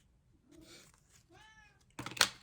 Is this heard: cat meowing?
yes